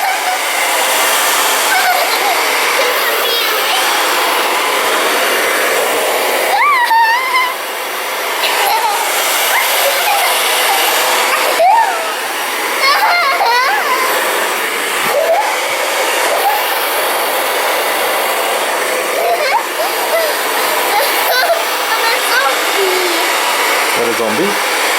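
A hair dryer blows warm air in a steady, loud, continuous whoosh that runs throughout, with brief dips, while children's voices and squeals sound faintly over it.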